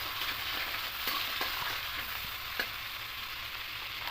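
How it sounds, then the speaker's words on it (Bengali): Fried vegetables sizzling in a pan as chopped chillies go in, a steady close crackle with a few sharp ticks and scrapes of stirring, no voices. "সবজিগুলো ভেজে নিয়েছি এবার এখানে লঙ্কা কুচিগুলো দিয়ে দেবো"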